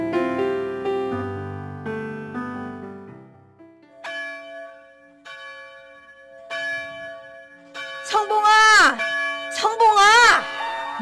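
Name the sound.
church bell ringing in radio drama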